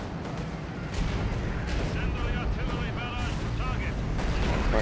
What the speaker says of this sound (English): Let's drop the incendiaries.